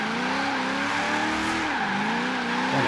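An HSV GTS Maloo ute drifting in second gear around a roundabout in Forza Horizon 3, a continuous loud tyre squeal over the revving engine, its pitch wavering and dipping midway.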